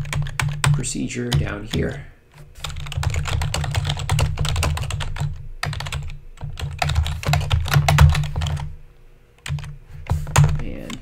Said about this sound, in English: So I'm going to go ahead and type in the call to draw road.